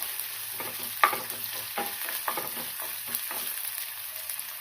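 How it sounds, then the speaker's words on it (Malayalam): Onion and curry leaves frying for a ginger curry, a soft steady sizzle under repeated scraping stirs of a spoon against the pan, fairly quiet and close. "കറിവേപ്പില, ഉള്ളി ഒന്ന് നന്നായിട്ട് മൂത്ത് കിട്ടണം."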